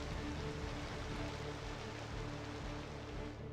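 Rainfall over a Cities: Skylines II city, a dense, constant patter and hiss that holds evenly from start to finish, moderately loud and alone without any talk.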